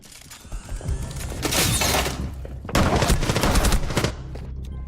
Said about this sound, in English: You take 2 shotgun shots.